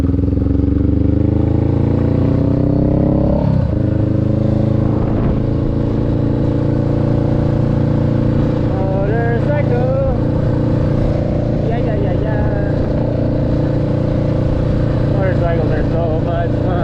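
A motorcycle engine drones steadily while riding, with a low rumbling hum that shifts pitch as it gears up, and wind noise across the top.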